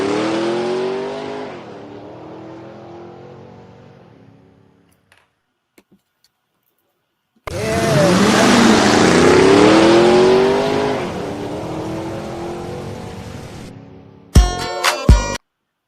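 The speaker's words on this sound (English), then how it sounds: "Yes, that was riding in my Chevy." A Chevy car drives and revs, engine notes rising and falling through two loud close passes separated by a quiet gap, ending in sharp clipped bursts.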